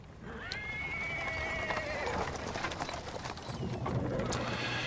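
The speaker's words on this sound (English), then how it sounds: "A cart drawn by a sad little horse appears from around the corner." A cart drawn by a horse on paving stones in a fantasy role-playing game, with a close whinny near the start, steady clip-clop of hooves and rolling wheels, and voices underneath.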